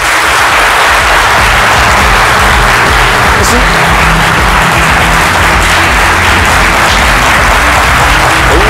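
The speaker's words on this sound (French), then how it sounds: "Le public va vous applaudir pour vous recevoir." Studio audience applauding as a guest arrives on a midday TV set, loud sustained clapping throughout with a brief spoken word over it.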